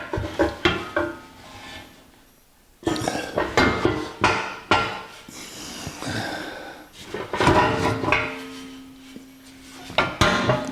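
Metal tools knock and clink against the exhaust muffler hanger of a 1984 Jeep CJ7 as it is removed, with irregular close bangs and rattles separated by short pauses.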